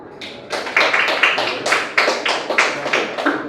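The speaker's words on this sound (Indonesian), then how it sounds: "tepuk tangan untuk temannya" Students in a mathematics classroom clap for a classmate, a short burst of uneven handclaps from a small group, close and moderately loud.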